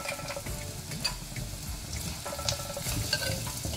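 Asafoetida sizzling in hot oil for a Kerala curd curry, a steady crackling fry with scattered spits and stirring clatter, fairly close and continuous throughout, with no voices.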